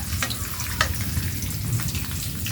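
Hot oil sizzles steadily with small crackles and pops as onions and a secret spice mix fry in a pan, close and continuous with no talk.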